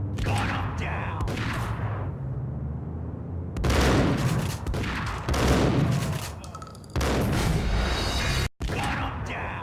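Repeated gunfire bursts and loud crashing volleys ring out in a Max Payne shootout on PC, with dense overlapping shots and brief gaps, loud and close throughout.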